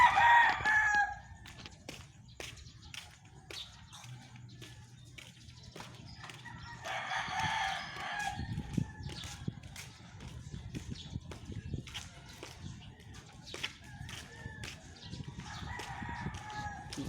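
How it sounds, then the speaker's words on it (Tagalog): Many roosters and chickens along a subdivision street in the Philippines: roosters crow in bursts at the start and again midway, with scattered clucks and sharp clicks over a steady low rumble of background noise. "So, maraming mga manok dito oh."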